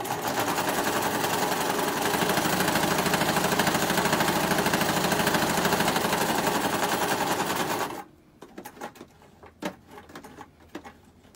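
A sewing machine runs steadily for about eight seconds, top stitching a cloth napkin at a dense, even hum, then falls to a few short bursts and clicks as it pauses near a corner with the needle down.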